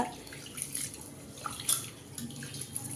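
Moong dal being rinsed in water for ven pongal, with soft, quiet splashing and small trickles and drips close by.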